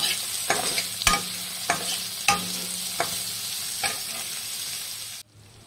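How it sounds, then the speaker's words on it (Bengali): Chopped onions, bay leaves, cardamom and cinnamon sizzle in hot oil while a spoon scrapes and stirs in regular strokes, then the sound cuts off abruptly. "ভেজে নিই।"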